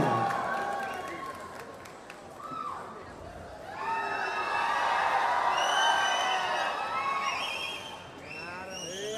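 A crowd at the Ayogya 2 song launch at Mantri Mall in Bengaluru applauds and cheers to welcome actor Ravishankar on stage. The clapping swells from thin scattered claps into a loud, sustained roar with whistles and shouts that continues to the end.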